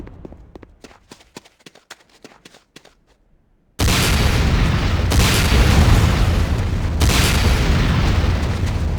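Soft footsteps give way to a sudden run of loud, close, booming rocket launcher blasts in Command and Conquer: Renegade, one explosion rolling into the next.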